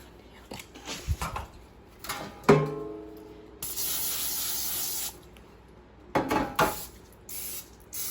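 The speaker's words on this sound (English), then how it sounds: "I'm going to be using the spray-on butter." A spray-on butter aerosol can sprays a pan in a steady hiss for about a second and a half, with clattering handling noises of the pan before and after.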